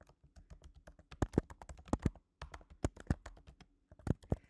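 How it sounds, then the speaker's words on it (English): Headline text typed on a computer keyboard, bursts of crisp, close keystrokes in quick uneven runs with short gaps between words, quiet room and no talking. "Let's type in a similar headline again."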